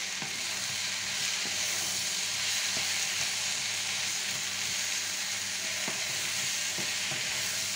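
Mushrooms sizzle and crackle steadily as they go into a pot of boeuf bourguignon, a continuous close frying hiss with faint stirring clicks, no voices.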